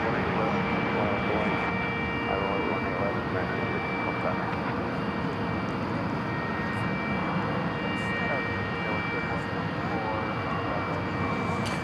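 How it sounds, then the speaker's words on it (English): Airbus A300 jet airliner at DFW Airport, a steady broadband engine roar that holds at a constant loud level for the whole stretch, with a faint voice talking underneath. "what we're looking at here is an A300."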